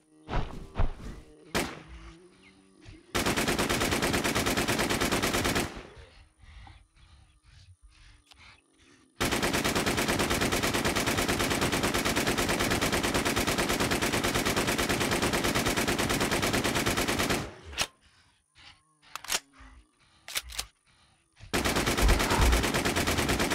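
RPK-74 light machine gun fire in the online survival shooter Infestation, aimed at a boss in flooded Boulder City: long sustained automatic bursts of several seconds each, loud and close, separated by brief pauses with a few scattered single shots.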